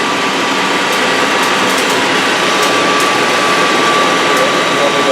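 A Citizen M20V CNC Swiss lathe's main spindle runs at close range with a steady, loud machine whir and hiss, a constant high tone over broadband noise and a few faint clicks.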